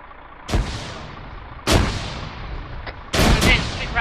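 Frag grenades exploding during an Arma 3 firefight, three sharp blasts roughly a second apart, each a sudden broadband boom with a short decaying tail over steady background noise.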